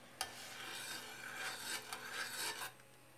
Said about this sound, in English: you just want to keep on stirring it so you can actually feel that it's getting thicker